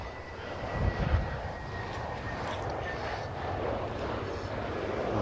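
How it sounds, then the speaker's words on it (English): A KLM Boeing 787 Dreamliner lands at Schiphol on a windy day, heard as a moderate, continuous jet rumble with gusts of wind buffeting the microphone early on. "KLM flight just got in."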